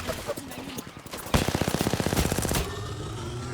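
Rapid automatic gunfire in the battle royale shooter Apex Legends, a fast burst of evenly spaced shots lasting about a second with game sounds before and after.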